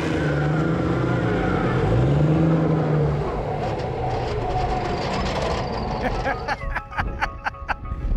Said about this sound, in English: And it's also good for burnouts.